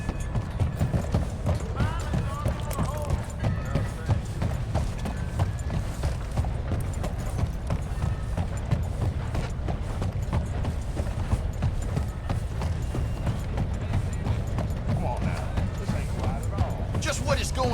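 Horse hooves clip-clop steadily in a western outlaw video game while a player rides, the beats running continuously under ongoing talk and game noise.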